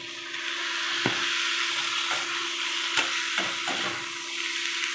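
Tomatoes sautéing for a Tamil chicken curry, a steady loud sizzle from the pan with several sharp scrapes of a spatula stirring throughout, no voices.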